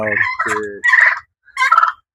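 A turkey gobbles nearby in two quick, loud warbling bursts separated by a brief pause.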